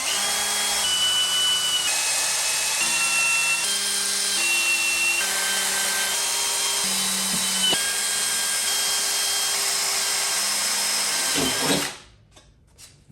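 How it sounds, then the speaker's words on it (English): A power drill bores through a metal piece for a Lexus camper's wheel well, a loud steady whine with stepping pitch changes for about twelve seconds before stopping abruptly. "let's take this down and drill it."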